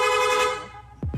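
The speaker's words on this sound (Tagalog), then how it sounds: "Meron pa rin po yan. Rapid horn." A car horn sounds in a long steady blast, then a quick second toot right at the end, loud and close.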